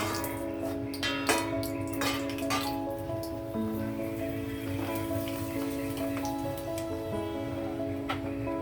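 Vadiyalu, crisp sun-dried flour fritters, crackle steadily in hot oil, a dense spattering hiss with scattered sharp pops and a few clinks of a utensil against the pan, close and continuous throughout.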